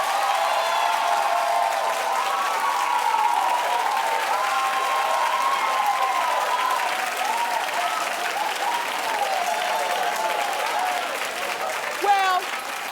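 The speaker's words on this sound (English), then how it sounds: "Clap if you think, give NeNe a raise and let her stay." Sustained studio audience applause on a daytime talk show, a dense, steady roar of many hands clapping that holds for over ten seconds, with voices and occasional cheers mixed in.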